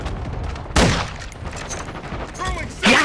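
Pistol gunfire in an online shooter game, two sharp loud shots about two seconds apart over background game noise and faint voices.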